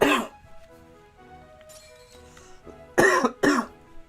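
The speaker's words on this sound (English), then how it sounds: "Try not to cough in the microphone." A person coughs close to the microphone, a sharp burst at the start followed by two loud, quick coughs near the end, with quiet clinking and faint background sound between.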